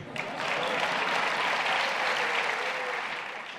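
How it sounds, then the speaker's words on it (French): An audience at a religious conference on deliverance breaks into applause for a priest, a full, even roar of many clapping hands that swells quickly and holds steady for a few seconds before easing slightly. "on pourrait l'applaudir au nom de Jésus"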